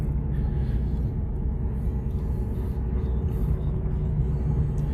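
A Chevy Impala with a cracked windshield cruises along, its steady low engine and road rumble droning evenly throughout with no talk.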